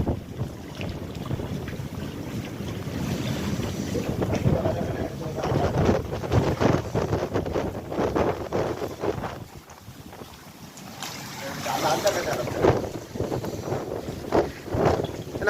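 Fishing boat being hauled ashore in stormy wind on a coast, with loud gusting wind buffeting the microphone and rough surf throughout, irregular surges and crashes, and a voice speaking intermittently over the roar.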